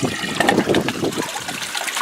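Water gushes out of an aquaponics pipe, forced through by air pressure, a steady close splashing rush that eases slightly toward the end.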